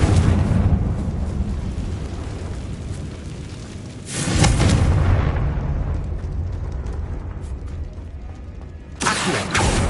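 The Confringo blasting spell in the video game Hogwarts Legacy sets off loud explosive bursts that swell into rumbling blasts twice, over steady mechanical game ambience.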